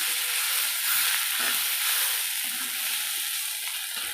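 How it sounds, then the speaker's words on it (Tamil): A fish curry base sautés in a single ladle of oil, producing a steady, bright, close-up hiss of frying with slight swells as it is moved around; no voices. "ஒரு குழி கரண்டி தான் எண்ணெய் ஊற்றி வதக்கிட்டுருக்கேன்."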